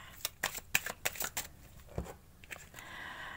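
Tarot cards being shuffled by hand, a run of quick crisp riffling snaps and flicks close up, followed by a softer continuous rustle as the deck settles.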